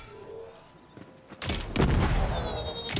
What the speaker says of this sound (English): Your, your own explosion set you on fire.